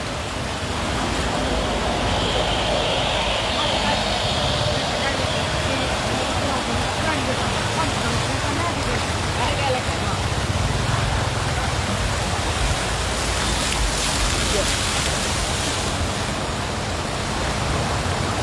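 Floodwater pours along a submerged road in Panetonga, North Sumatra, as a steady, dense, loud rush like a river, unbroken throughout with no voices.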